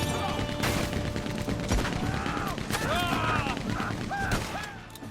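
Gunfire crackles in a Red Dead Online shootout at a shed in Tumbleweed, with sharp repeated bursts and mechanical clatter under game sounds and whistling tones, fairly dense and continuous.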